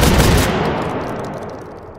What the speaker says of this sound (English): Both are fully automatic. And we're gonna fire them right now.